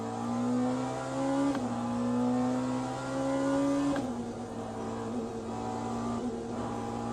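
A race car engine at speed on track at Bahrain in Le Mans Ultimate during a two-hour race: a steady, loud, close drone whose pitch climbs gradually, with two sharp gear shifts that drop it before it rises again.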